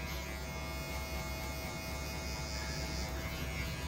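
Electric hair clipper buzzing steadily and continuously while cutting a skin fade at close range, a constant motor hum with no talking over it.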